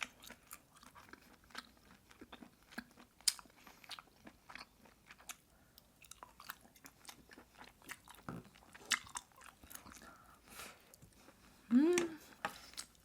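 Garlic butter abalone gets chewed close to the microphone, with faint, soft wet bites and squishy mastication in irregular bursts, plus a brief vocal sound near the end.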